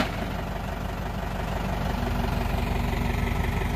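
Tractor engine idles close by at a building site at a house, a steady low chugging rumble that holds even and loud throughout with no talking.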